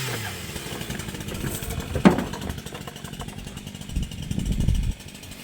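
A Husqvarna 565 chainsaw engine runs steadily at a moderate idle, with a sharp transient near the middle and a rising surge toward the end, close and fairly loud with no talk.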